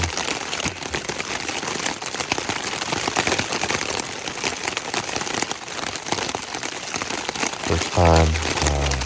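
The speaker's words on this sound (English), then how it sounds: "in my tent as it's raining pretty good," Heavy, steady rain drums on a tent on the Appalachian Trail at around 3 or 4 in the morning, a dense close patter that continues throughout, with a brief low thump near the end.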